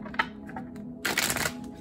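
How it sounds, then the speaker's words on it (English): Tarot cards being shuffled, a soft riffling burst near the end preceded by a few light taps and card slides, close and quiet with no talking. "and one more shuffle."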